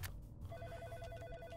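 A telephone rings in the horror video game In Sound Mind, a thin, steady warbling trill that starts partway in and carries on at moderate volume, ending with a louder burst of noise.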